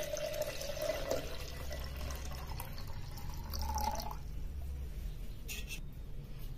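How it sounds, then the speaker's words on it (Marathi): Water is poured into a copper kalash, a faint trickling and filling sound with light drips, fairly quiet throughout. "याच्यामध्ये कंठापर्यंत किंवा गळ्यापर्यंत पाणी भरून घ्यायचं आहे"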